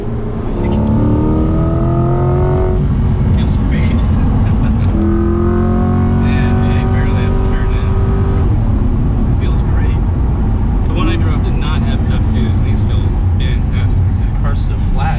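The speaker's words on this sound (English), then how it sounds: "You hear the turbo right there, too?" A sports car engine revs hard and accelerates through several gear changes, loud and close, with rising turbo whine and sharp shifts between pulls.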